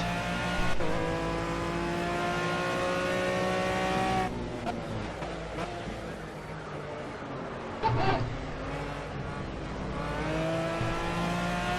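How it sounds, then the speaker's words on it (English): A GT3 race car in Project CARS squeals its overstressed tires under a loud, steady engine drone, with a sharper skid burst midway through. "I think I overstressed my tires a little bit"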